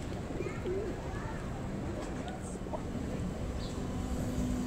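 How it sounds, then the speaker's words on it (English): Pigeons cooing on Swanston Street in Melbourne, soft repeated coos set against steady city street noise and a passing voice. "The old Melbourne pigeons. They're always around when they're hungry."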